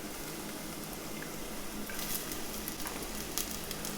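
Corn kernels frying in a pan with toasted garlic for a Mexican stuffed chayote dish, a steady soft sizzle with faint crackles and a few sharper pops toward the end, close by with no talking.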